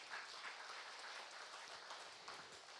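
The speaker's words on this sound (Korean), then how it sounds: "하나님께 다시 한번 감사의 박수를 돌리십시오." Congregation applauding to thank God during a Sunday afternoon worship service at a Korean church, a faint but steady wash of clapping from a distance.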